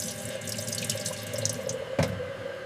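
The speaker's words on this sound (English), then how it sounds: "Fill the kettle." Tap water runs into a kettle in a steady, close rushing stream, with a single sharp clunk partway through.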